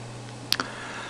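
Two quick key clicks, close and crisp, against a faint steady hum.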